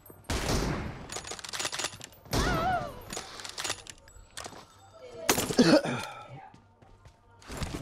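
Gunfire in a mobile battle-royale shooter game: a few short bursts of shots spread across the stretch, mixed with other in-game effects and brief vocal sounds.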